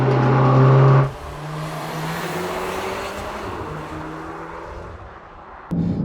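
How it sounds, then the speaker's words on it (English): Mk8 Volkswagen Golf R fitted with an upgraded Milltek exhaust, a loud brief rev that drops into a sustained engine drone and whooshing exhaust note, with a second rise near the end. "the exhaust sound is definitely there to back it up"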